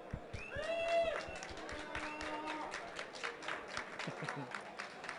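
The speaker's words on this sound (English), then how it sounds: "Let's have a round of applause for our finalist." An audience at a Warhammer 40K Conquest world championship final applauds the tournament finalist, a dense run of claps and light cheering under a host's voice, with clapping continuing steadily throughout.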